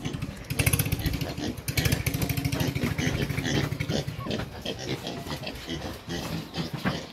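Pigs in a marsh area after an earthquake, grunting and oinking in quick rhythmic bursts, close and fairly loud, with a low engine-like rumble and some clatter underneath.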